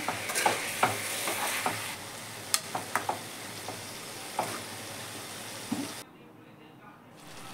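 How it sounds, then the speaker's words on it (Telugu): Broad bean curry being stirred in a pan after fresh coriander goes in, with a low simmering sizzle under repeated close spoon scrapes and taps, then the cooking noise drops away near the end. "ఇందులో కొత్తిమీర వేసుకున్నాక బాగా కలపాలండి"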